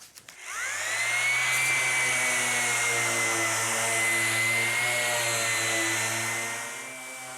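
A power sander working over the surfaces of traction boards, stepping through 120, 180 and 240 grit, drones steadily and loudly, spinning up at the start and holding a sustained whine for several seconds, with no voices.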